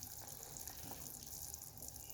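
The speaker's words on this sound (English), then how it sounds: "So I'm going to drain out the water." Water pours steadily from a cooking pot of broccoli into a kitchen sink, a continuous broadband splashing rush at close range that holds even and unbroken throughout, with no voices.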